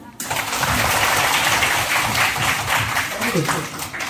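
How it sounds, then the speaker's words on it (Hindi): A room of children claps loudly on cue, starting abruptly after a brief pause and holding as a dense, steady rush of clapping with some voices mixed in before it eases slightly at the end. "जोर से ताली"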